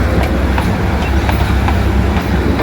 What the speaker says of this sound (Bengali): একটা টয় ট্রেন আসছে ওই দিক থেকে